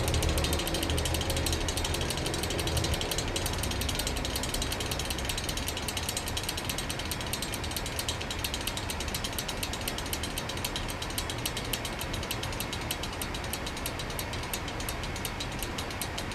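The badge on a Kwik Kool 8-inch desk fan rattles in a rapid, steady mechanical clatter as the fan slowly spins down, close and continuous for a long stretch.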